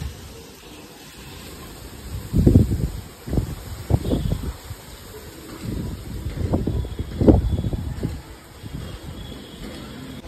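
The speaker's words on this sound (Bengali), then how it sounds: "মাঝে মধ্যে বেশ জোরে হাওয়া দিচ্ছে" Strong gusts of wind buffet the microphone in several rumbling bursts, rising and falling over a steady outdoor hiss.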